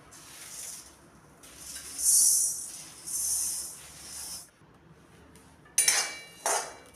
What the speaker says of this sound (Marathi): धने आता मंद आचेवरती आपल्याला भाजून घ्यायचे